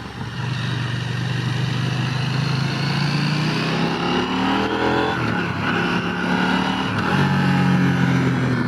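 A 2022 KTM 890 Duke motorcycle engine accelerates hard through the gears on a street test ride, its loud, steady roar rising in pitch with brief dips at each shift and continuous wind noise, with no talking.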